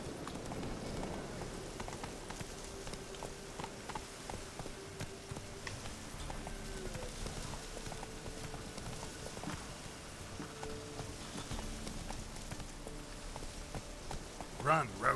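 Roach the horse gallops in The Witcher 3: Wild Hunt, rhythmic hoofbeats clip-clopping steadily at moderate volume with rain-like ambience, and someone speaks briefly over it.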